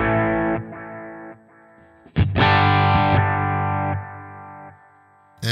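Guitar through the lo-fi delay on a Sonicake Matribox 2 multi-effects unit: short phrases and a struck chord ring out with gritty, slightly distorted repeats that lack bass and treble, fading between phrases.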